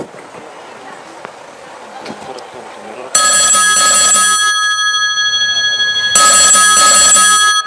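A telephone rings loudly in two long bursts of bright electronic ringing, the first starting about midway and the second after a short pause, following quieter room noise and a woman's speech.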